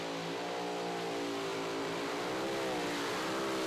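A mini rod pulling tractor engine screams at full power during a tractor pull in Goshen, Indiana, a loud sustained high-revving roar with shifting pitch and no pauses.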